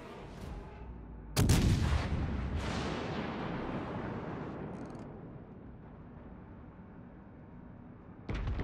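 Battleship main guns fire in a naval warfare video game: a loud booming salvo followed by a long rumbling decay, a second blast partway through and another sharp shot near the end, with no talking.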